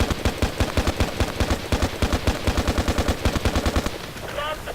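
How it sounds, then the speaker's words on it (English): Rapid bursts of L85A2/FAMAS rifle fire crack out in Battlefield Play4Free, a dense, loud run of close shots tapped in quick succession before a brief pause and a faint tail. "so now tap firing"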